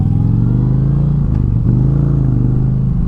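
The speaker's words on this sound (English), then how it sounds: "They kept that big bike sound even after moving to liquid cooling" An Indian Chieftain Dark Horse 125th Anniversary Edition motorcycle's liquid-cooled engine rumbles loudly and steadily at close range while riding, a deep throbbing idle-to-cruise note with a brief dip and a small clack near the end.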